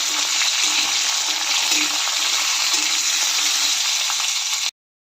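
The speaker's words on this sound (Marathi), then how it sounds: "मिरच्या मुळा पण घालते यामध्ये आता हे सर्व मंदाचेवर भाजून घ्यायचं" Chillies, onion and radish roasting in a pan on a low flame while making radish chutney, giving a steady, close, continuous sizzle and crackle with no talking, ending abruptly.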